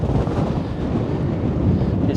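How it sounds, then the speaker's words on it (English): Strong wind gusting across the microphone outdoors at Brean Down, Somerset, a loud, close, continuous buffeting roar. "Quite windy down here."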